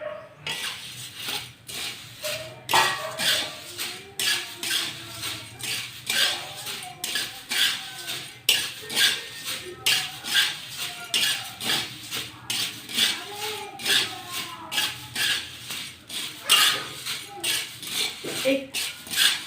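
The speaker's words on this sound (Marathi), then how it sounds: "कढईमध्ये चुरमुरे हलकेसे भाजून घेऊया" Puffed rice is dry-roasted in a kadhai for laddus. A steady, rhythmic scraping and rustling repeats close by as the grains are stirred against the pan, continuing throughout.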